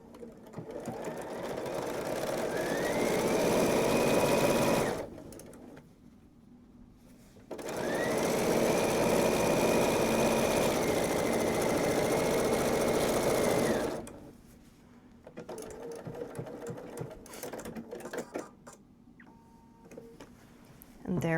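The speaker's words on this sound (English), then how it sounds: "And now I'm just going to finish sewing that open raw edge." A sewing machine stitches a quilt's binding edge in two sustained runs of fast, even needle chatter, close and loud, separated by a pause. Afterward there is quieter handling noise and someone speaking.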